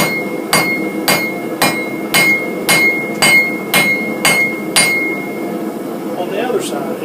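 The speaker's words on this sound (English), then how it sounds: "So as I do my hammering, I'm going to take my hammer and drive it down and away." A hammer forges hot steel into a leaf-shaped key chain: about nine evenly spaced, sharp ringing blows land close by on the anvil, then stop, leaving quiet shop ambience.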